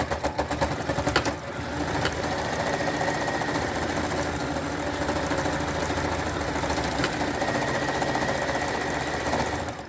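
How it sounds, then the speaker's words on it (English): A sewing machine runs in a steady, fast mechanical chatter while stitching the crotch seam of a jersey leotard, close and continuous after a brief start, with clicks over the hum and no speech. "We're just going to sew up the crotch."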